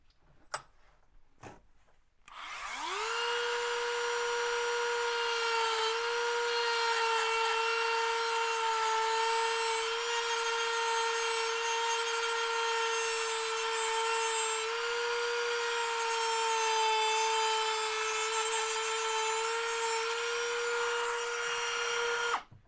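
A power tool whines steadily and loudly for about twenty seconds while cutting a part off a car's front splitter. Before it starts there are a few sharp knocks and clicks, and the tone stays even and close throughout.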